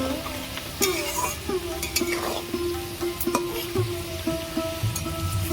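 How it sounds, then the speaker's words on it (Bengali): Thick-cut potatoes fry in a pan with a steady, fairly quiet sizzle, broken by several clinks and scrapes of a utensil stirring them. "আলুগুলো ভাজা হয়ে গেছে তুলে নেব"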